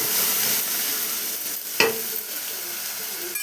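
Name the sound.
stirring ginger garlic coriander paste in frying pan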